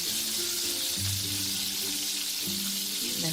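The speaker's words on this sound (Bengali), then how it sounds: "এবার মুচমুচে লাল করে আমি ভেজে নেব।" Potatoes deep-frying in hot oil for homemade French fries give a steady, close sizzling hiss that runs unbroken throughout, with a faint low hum beneath.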